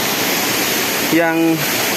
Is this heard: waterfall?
yes